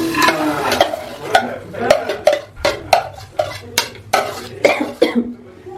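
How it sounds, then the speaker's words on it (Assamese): Dry chana dal dropped into a pan on a gas stove gives a run of sharp, rattling clicks and taps, close and fairly loud, with gaps between bursts and a brief scraping stir. "এতিয়া মই গ্যাসটো অন কৰি লওঁ আৰু মই ইয়াতে বুটৰ দালিখিনি ধুনীয়াকৈ দি দিম"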